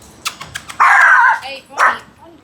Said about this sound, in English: Wild dogs.